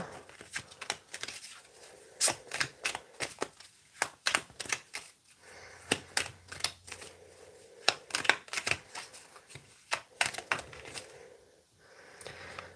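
Tarot cards being shuffled by hand, giving quick papery riffles and soft slaps in irregular bursts, close and fairly quiet, with brief pauses between handfuls.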